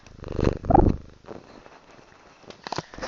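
A cat purrs in close, rumbling bursts, loudest early, then softer with a few brief scratchy sounds near the end.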